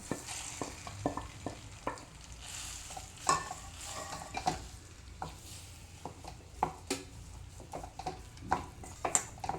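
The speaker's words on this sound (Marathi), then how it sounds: "तूप वितळलं की त्यात किसून घेतलेला बटाटा घालायचा" Grated potato sautéing in ghee in a pan, with a faint low sizzle under repeated sharp clinks and scrapes of a spoon stirring against the metal, irregular and close, no voices.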